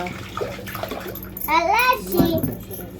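Water splashes and swirls briefly as a mixer grinder jar is rinsed of leftover cardamom and sugar powder, while a voice talks over the sound.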